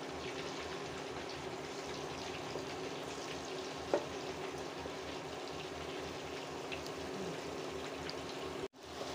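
Egg rolls frying in a pan give off a steady, even sizzle throughout, with one brief clink near the middle and a short drop just before the end.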